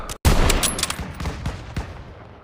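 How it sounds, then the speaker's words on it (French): Automatic weapon fire in Call of Duty WW2 crackles through a dense, loud fusillade: a sharp opening blast, then rapid overlapping shots over a couple of seconds. "Vise les mitrailleuses!"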